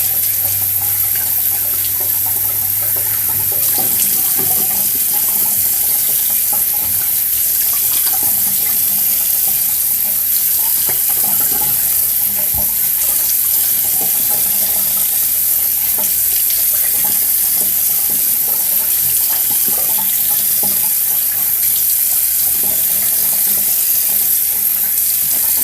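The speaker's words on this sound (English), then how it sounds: "So now I'm going to rinse this off." Warm tap water runs steadily into a sink while someone rinses their face during a skincare routine, a continuous close splashing wash with small surges from hands moving through the stream, no talking.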